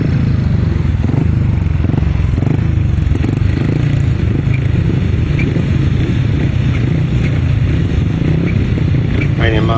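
A pack of 500cc solo grasstrack racing motorcycles roars continuously through a race heat, dense engine noise with clatter and scraping, loud and steady throughout, with a commentator's voice mixed in.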